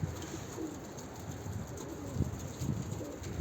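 A pigeon coos softly and repeatedly against a steady background hum, low and fairly close.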